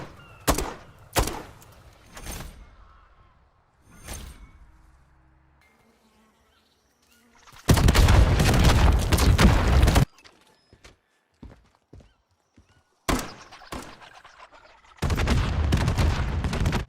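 Spawn tubes launched in Modern Warfare III on the Vista map, sharp repeated launch bursts in quick succession, then longer roaring blasts in several separate bursts, no talk.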